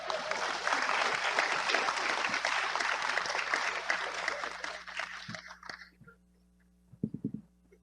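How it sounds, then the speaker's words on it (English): Audience applause at a national council meeting, a dense round of clapping that holds steady for about five seconds, then fades out, leaving a few scattered claps and a brief burst of low sounds near the end. "We'll give her a round of applause."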